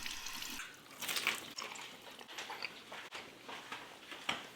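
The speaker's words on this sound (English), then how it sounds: "Shall I wash my hands really quick?" Hands being rinsed under a running kitchen tap, a steady wash of water splashing with small surges and drips, fairly close and alone without talk.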